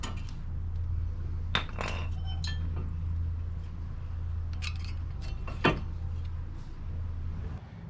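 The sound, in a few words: removing brake pads from Toyota Corolla caliper, metal clinking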